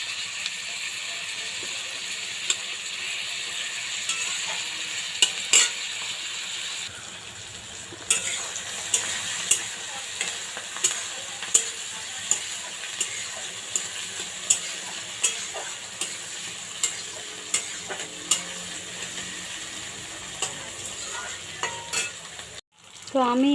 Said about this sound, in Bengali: তো এটা ততক্ষণ ভাজা হবে